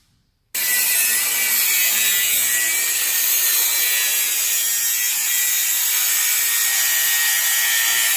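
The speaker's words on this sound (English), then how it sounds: "So you're just going to grind it off." Handheld battery grinder cutting off a nut during front spring replacement on a 2006 Fiat Punto: a loud, steady, harsh metallic whine starts abruptly and runs continuously, close and alone.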